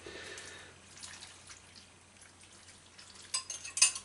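Stock is poured over mushrooms in a casserole dish as a soft, faint trickle, ending in a few brief, close splashes and drips.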